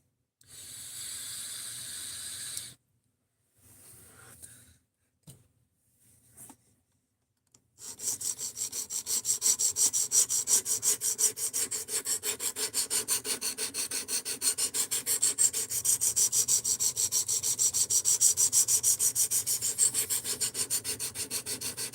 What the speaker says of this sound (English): we're sharpening it as a formality, just because I want a fresh edge on it